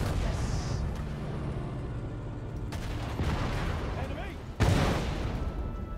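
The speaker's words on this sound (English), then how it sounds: "Panzerwerfer going off." Panzerwerfer rocket launcher salvo going off in the WWII strategy game Sudden Strike 4, sharp bursts amid ongoing battle noise and distant gunfire, with voices talking over the combat.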